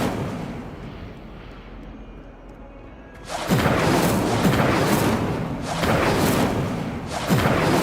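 Incendio fire spell cast in the Hogwarts Legacy video game: after a quiet ambient stretch, a loud roaring whoosh of flame bursts out and surges in repeated waves, dense and sustained.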